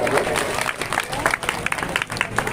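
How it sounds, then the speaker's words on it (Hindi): An audience at a Bhagwat Katha in Sambhal applauds loudly for a wife: a crowd's dense, continuous clapping with uneven surges, heard close and full, with murmured voices underneath. "पत्नी के लिए जोरदार तालियां बजा दो"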